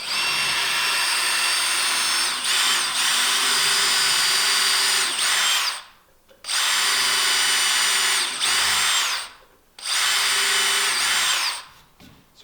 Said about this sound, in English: and then just drill this in